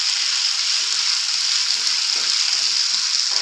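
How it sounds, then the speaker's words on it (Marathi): Finely chopped green chillies fry in hot oil for vada pav, a loud, continuous close sizzle and crackle with no talk. "चांगलं भाजू द्यायचं हे तेलामध्ये."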